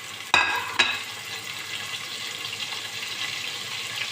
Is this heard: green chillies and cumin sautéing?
yes